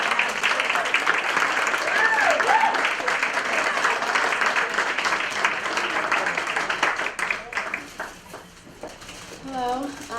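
An audience at an Association of Greek American Professional Women event applauds to congratulate Christina Bogos, with dense, loud, steady clapping that fades near the end as a voice begins speaking.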